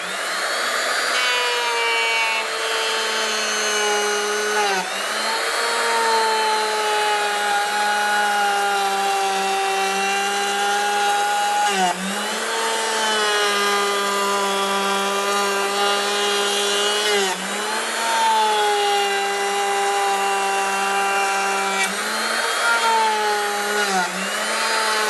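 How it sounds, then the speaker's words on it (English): Router fitted with a rabbeting bit cutting a rabbet in wood for a cabinet back, a loud, sustained high whine that dips briefly several times as the bit bites in, running alone without speech. "And there's that cut using the router."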